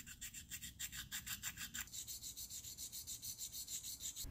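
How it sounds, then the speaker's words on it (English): A small stone hone rubs back and forth over a lathe tool bit, a rhythmic close rasping of even strokes, quicker and coarser at first and then finer and steadier, with no talk. "I'll clean up those grinding marks and burrs with a little stone hone"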